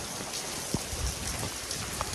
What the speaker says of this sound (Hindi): फुल तेज बारिश आ रही है